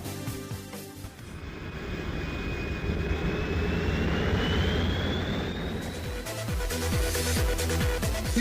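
Jet airliner engine roar used as a sound effect in an Eastern Airlines radio ad, a loud sustained rushing whine with a rising high tone, swelling in after about a second and continuing to the end, no talk.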